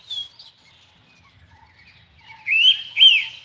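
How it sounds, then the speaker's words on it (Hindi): Small birds chirp and whistle outdoors in the background, a few faint tweets at first, then two louder, clearer trilling calls near the end, with no speech. "ये जो बैकग्राउंड में चिड़ियों की चहचहाट है"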